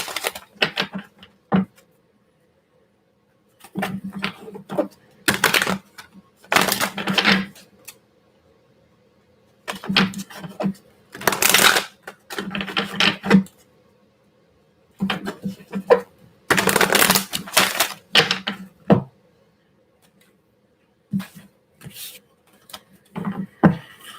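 Angel cards shuffled and drawn in irregular bursts of crisp riffling and slapping, separated by quiet gaps, with soft talking in places.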